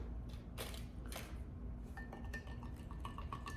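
A strawberry-flavoured drink from a Lithuanian military ration is stirred, giving soft clinks and taps of a utensil against the container. The sound is quiet and close, sits over low room hum, and no one talks.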